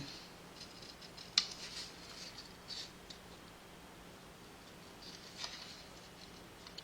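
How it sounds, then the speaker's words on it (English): Scissors fussy cutting paper pieces for handmade book fold cards, heard as faint, sparse snips and light paper rustles at close range in a quiet room, with a few sharper clicks of the blades. "I actually love fussy cutting."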